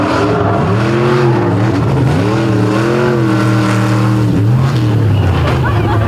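Roaring engine of a truck on a rough monster-truck course at a Lake Erie event, loud and close, its pitch surging and dipping as the driver works the throttle, with an announcer speaking over it.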